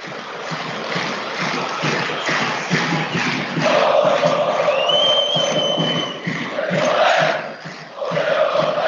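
Football stadium crowd at a Widzew Łódź match against Korona Kielce, a broad swell of applause and cheering rising midway after a sliding tackle, with a match commentator talking over it throughout.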